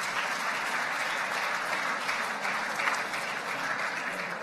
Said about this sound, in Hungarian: a fotósoknak kérek szépen egy tapsot